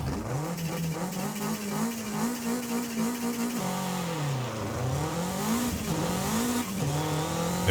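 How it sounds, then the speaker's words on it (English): A Toyota MR2 in Forza Horizon 5 revs hard, its engine pitch climbing, dropping and surging again through repeated throttle blips, steady and prominent with no talking. "It revs so quickly."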